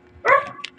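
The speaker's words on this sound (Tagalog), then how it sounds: "mahingay talaga yung aso namin tatahol" A household dog gives a single short, sharp bark close by, with a faint yip trailing after it.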